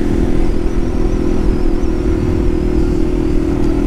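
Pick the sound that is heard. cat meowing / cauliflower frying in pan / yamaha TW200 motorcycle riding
yamaha TW200 motorcycle riding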